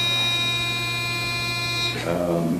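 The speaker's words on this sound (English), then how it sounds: "Oh, that's the elevator?" Elevator buzzer in a meeting room, a sustained steady electronic buzz that holds for about two seconds before cutting off, with the room's murmur continuing afterward.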